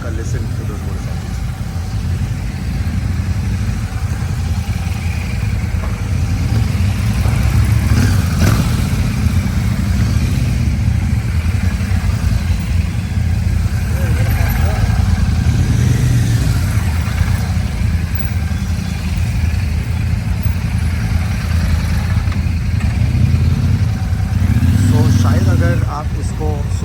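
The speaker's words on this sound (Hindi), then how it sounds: "So you can also take a listen to those motorcycles." Motorcycles on a road near a Royal Enfield Shotgun 650, giving a steady mid-pitched engine drone throughout with swells as bikes pass and rev, under a speaking voice.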